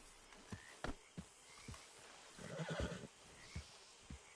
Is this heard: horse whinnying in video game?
yes